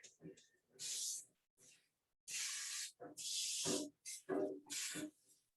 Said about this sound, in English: So this is the canola oil spray so that it's not gonna stick.